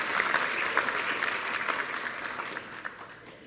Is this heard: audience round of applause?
yes